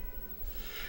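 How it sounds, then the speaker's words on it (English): A house cat meows once, softly and briefly, over a faint low background hum in an indoor room. "And there goes my cat."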